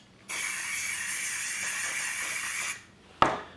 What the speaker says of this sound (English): We're going to cover the back of the pattern with some temporary spray adhesive.